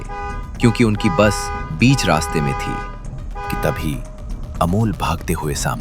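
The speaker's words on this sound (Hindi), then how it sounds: "बस के पीछे से गाड़ियों के हॉर्न की आवाज सुनाई देने लगी" Vehicle horns honking behind a bus, several overlapping toots and blasts as a sound effect, heard under a voice narrating throughout.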